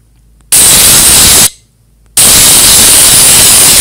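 Electric hair clipper sound effect from a head-shaving phone app, a loud steady buzzing hiss that runs for about a second, cuts out briefly, then resumes and continues to the end.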